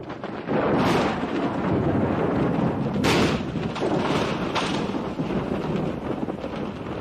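Thunder of a coming storm rolling over the Drakensberg Mountains, deep rumbling that swells into a loud crack and keeps rolling and echoing through the hills, with no voices.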